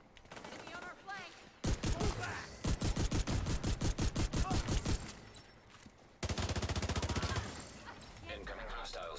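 Gunfire in the shooter game The Division: a loud rapid automatic burst, a pause with faint background sounds, then a second sustained burst, with quieter game noise between.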